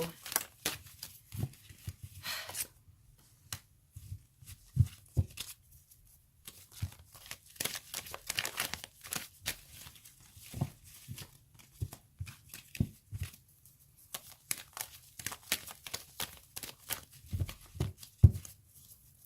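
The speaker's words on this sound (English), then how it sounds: "Please bear with me with the shuffling process." Tarot cards are shuffled and riffled in irregular bursts of crisp papery flicks and taps, close and fairly quiet, with short pauses between.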